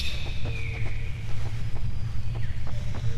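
Steady windy rumble with a broad hiss in a video game forest, a few faint bird chirps and soft rustles scattered over the top, continuous throughout.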